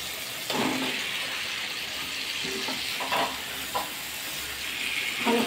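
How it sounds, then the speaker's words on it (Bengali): Chicken pieces dropped into a frying pan and stirred, a continuous hiss of sizzling with several scraping stir strokes spaced through it, moderately close and quiet. "এবার চিকেনটা দিয়ে দেবো"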